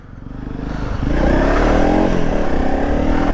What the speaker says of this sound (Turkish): Evet makineye marşı verdi.